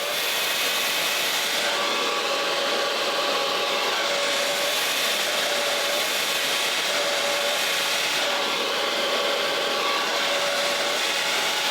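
A blow dryer runs steadily throughout while drying and curling hair in a wash-day blowout, a continuous broadband whoosh with a faint motor whine, close and loud, with no talking.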